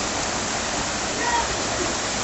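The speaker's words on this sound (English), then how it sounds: "look at her just walking through the water" A video game character wades through water, with a constant rushing, splashing wash of water filling the whole moment at steady loudness.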